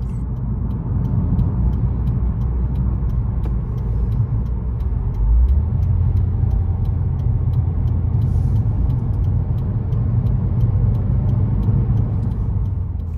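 A 2021 Subaru WRX with a six-speed manual drives toward a freeway merge, its engine and road rumble a loud, steady low drone from inside the cabin.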